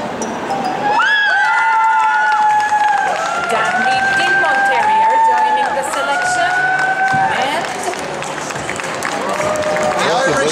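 Audience applause fills a hall during the veterans' group judging at an international dog show, with terriers among the placed dogs. Dense, steady clapping and crowd noise run throughout, with cheering and a voice rising above it.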